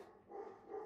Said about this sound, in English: what is my dog barking at?